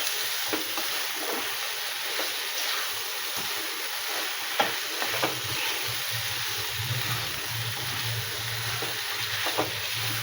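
Cauliflower frying in spice masala, with a steady close sizzle and hiss and intermittent scrapes of a stirring spoon against the pan, no talking.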